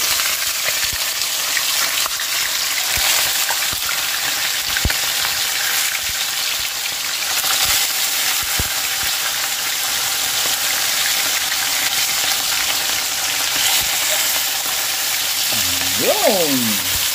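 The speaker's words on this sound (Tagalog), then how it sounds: "Tapos dito sa kabila, mainit na po yung ating kawali. Salang na po tayo ng ating pizza." Pizza set into a hot wok-style frying pan sizzles in a steady, close broadband hiss with scattered small crackles and light clatter, continuing evenly without talk.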